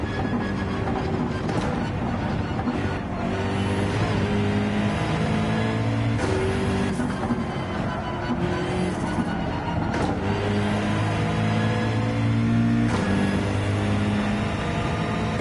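Race car engine in Gran Turismo 7 at Watkins Glen, holding a steady, loud drone with layered harmonics and repeated rises and drops in pitch through gear changes across the whole stretch, with no talk over it.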